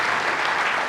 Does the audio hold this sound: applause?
yes